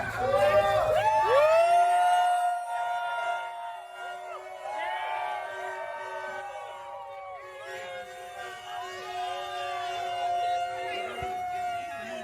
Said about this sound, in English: Obviously leaving to a happy crowd.